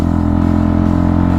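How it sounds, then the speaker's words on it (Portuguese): An RKF Kiwi 125 naked motorcycle, carrying two riders, runs with a loud, close and steady engine drone at constant pace, with no speech. "Motovlog de 125 RKF Kiwi"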